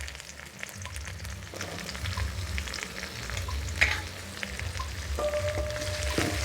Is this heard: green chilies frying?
yes